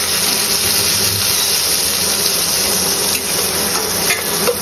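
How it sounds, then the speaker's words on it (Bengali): Prawns fry lightly in hot oil in a pan, giving a loud, steady sizzling hiss that runs without a break, with faint clinks of utensils and no speech. "চিংড়ি মাছগুলোকে আমি ভেজে নিচ্ছি"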